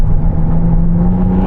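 A McLaren Artura plug-in hybrid supercar drifts around a corner under trail braking, giving a steady, loud engine drone with a low rumbling hum and no voices.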